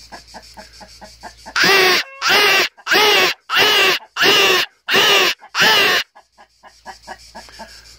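A lacquered boxwood jay call, cupped and opened by hand to imitate a crow, gives seven loud, harsh caws in an even rhythm, with quieter clicks and handling sounds before and after.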